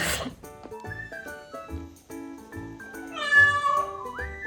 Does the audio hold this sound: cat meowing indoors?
yes